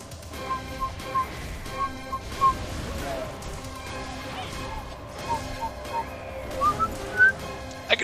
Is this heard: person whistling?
yes